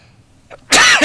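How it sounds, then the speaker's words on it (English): A single abrupt, loud sneeze bursts out after a brief quiet inhale, close and sharp, with no talking. "sneeze, sorry."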